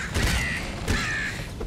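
Crows caw in the video game Nuclear Throne, two harsh, loud, close croaking calls in quick succession.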